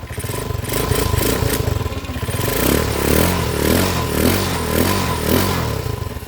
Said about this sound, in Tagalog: Pangit lang yung tunog ng tambutso mga kabro.